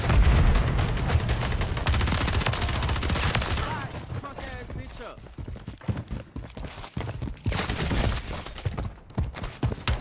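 Rapid bursts of SMG gunfire in Modern Warfare 3, dense sustained firing at first, then scattered sharp shots and impacts, with someone talking over the action.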